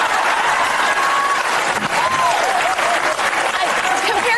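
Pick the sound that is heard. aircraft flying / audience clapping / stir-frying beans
audience clapping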